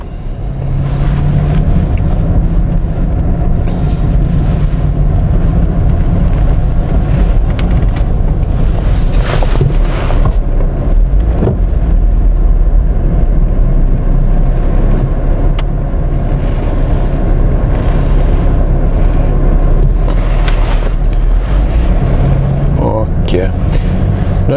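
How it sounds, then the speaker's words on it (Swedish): A Jaguar X-Type car pulls away and drives off, its engine a loud, steady low rumble mixed with road and wind noise from inside the cabin, continuing throughout. "Så, då kör vi iväg."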